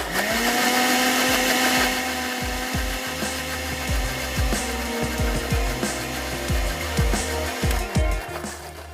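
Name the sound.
blender grinding soaked Kashmiri chilli paste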